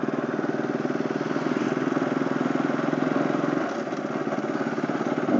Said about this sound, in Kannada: ಏನೇನೋ ಸೌಂಡ್ ಬರ್ತಿದೆ ಬೈಕು